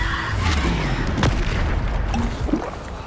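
Bombarda blasting spell explosions in Hogwarts Legacy combat, booming impacts with crackling debris layered over game ambience, a sharp hit near the middle and another toward the end, no talk.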